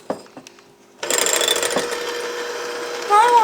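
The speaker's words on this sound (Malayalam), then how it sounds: "ഞാനിപ്പോൾ ഹാൻഡ് മിക്സറാണ് യൂസ് ചെയ്യുന്നത്." An electric hand mixer whirs steadily as it beats two eggs for a no-oven chocolate cake, starting abruptly after a few light clinks and running loud and close without pause.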